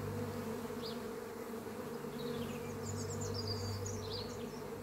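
Steady, dense buzzing of many honey bees at a hive, a continuous low drone with occasional higher whines of individual bees passing close.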